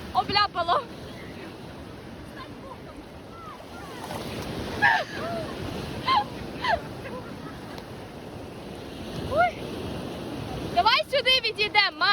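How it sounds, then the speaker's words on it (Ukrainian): Sea waves wash onto a beach in steady surges, with wind buffeting the microphone and a voice talking over the surf. "тут не такі будуть хвилі"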